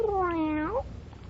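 A white kitten gives a single clear, close meow that rises, holds and then lifts sharply at the end, standing alone over a faint room hum.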